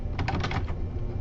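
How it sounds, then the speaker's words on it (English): Quick burst of about six keystrokes on a computer keyboard while entering registration options, close and crisp, followed by a quiet room hum. "this is where you start typing the options that the students have"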